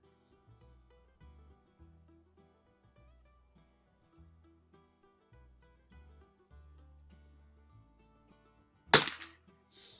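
A 1972 Anschutz Match 54 model 1407 rifle fires one sharp, close crack at an outdoor range, standing out after a long quiet stretch with faint low background noise.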